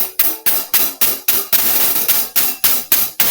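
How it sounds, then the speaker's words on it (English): Crisp, tight hi-hat strikes repeat in a steady rhythm, close and loud, with a brief stretch of quicker hits partway through. "the hi-hats. The hi-hats are so cool."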